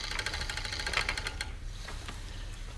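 An Ashford Traditional spinning wheel spins yarn with a steady, rapid mechanical whir and rhythmic clicking, fairly close, which drops into a softer, rougher rustle partway through.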